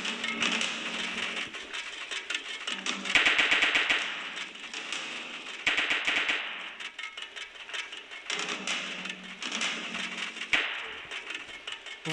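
Gunfire in a cover-based shooter video game: rapid bursts of automatic fire, loud and close, repeating in clusters with short gaps between.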